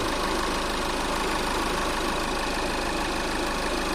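A VW Passat idles with its air conditioning compressor engaged, making a steady, loud mechanical hum and drone that holds constant throughout with no talking.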